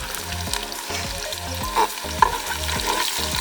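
Coarsely cut onion fries in oil for Rajwadi sev tameta shaak, a steady sizzle under rhythmic stirring and scraping of a spoon in the pan, with a couple of sharper clinks.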